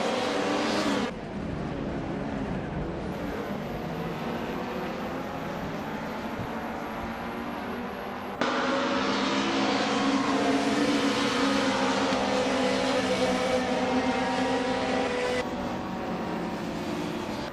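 Race cars in a video game roar continuously at high revs, engine tones rising and shifting as they head into the first turn, with loud steady motor noise throughout and abrupt cuts between camera views.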